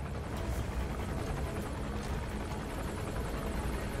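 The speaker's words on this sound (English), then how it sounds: "I will wait for the chopper to pass," A military helicopter passes in Metal Gear Solid V, its rotor thumping as a steady, moderately loud drone throughout with no talk.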